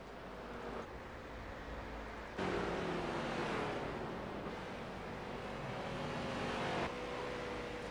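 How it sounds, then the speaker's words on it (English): Race cars in iRacing qualifying on track, engine whine rising and falling as cars pass, a steady continuous drone with tonal sweeps, moderately loud with no talk. "So right now we're watching a couple cars qualify on the track."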